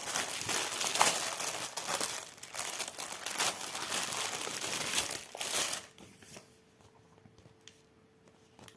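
Glossy paper cross-stitch pattern sheets handled up close, giving loud crinkling and rustling for several seconds before the paper falls quiet, leaving faint small rustles.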